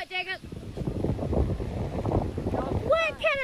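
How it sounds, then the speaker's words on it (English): Outdoor wind buffets the microphone steadily for several seconds, with high-pitched voices calling out briefly at the start and end. "Windy out here."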